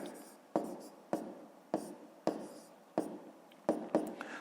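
Pen strokes writing out a fifth-grade math solution on paper, a series of about eight sharp taps and short scratchy strokes in an uneven rhythm, close and quiet, with no talking.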